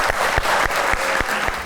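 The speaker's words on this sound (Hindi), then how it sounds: "तालियां।" Studio audience applauding on a Pakistani talk show, a steady wash of dense hand claps with no voices, close and even throughout the short burst.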